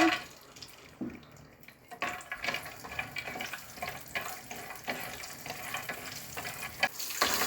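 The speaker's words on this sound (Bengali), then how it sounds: "বাদাম ভাজবো।" Nuts fry and get stirred in a pan for fried rice, a crackling sizzle broken by repeated scraping and clinking of a spatula, close up and without any speech.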